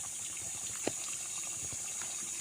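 Natural spring water flows steadily beside a river on a farm, a soft, continuous gush with a brief louder splash partway through, close by and with no talk.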